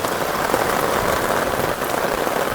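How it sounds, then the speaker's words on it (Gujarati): Heavy monsoon rain pours steadily onto a rooftop terrace in Surat, a dense, continuous hiss and patter at close range with no break and no voices. "આમું કાંઈ દેખાય નહીં એટલો વરસાદ આવે છે"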